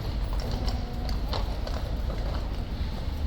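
Steady clip-clop of horse hooves on pavement, several horses walking together at a slow, uneven pace amid outdoor background noise.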